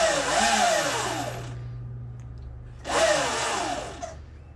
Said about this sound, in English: So now I can pull that brake in and still rev the throttle